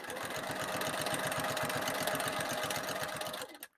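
A sewing machine stitches an mkoba lining in a steady, rapid run of needle strokes, close and loud, that stops abruptly near the end with no talking.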